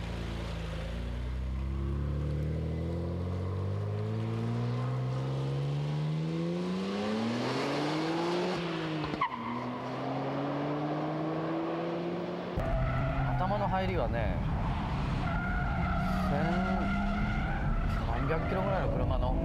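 Nissan R34 GT-R V-Spec driven hard on a winding mountain touge road, engine revving up and down through gears with tire squeal, someone talking over it throughout.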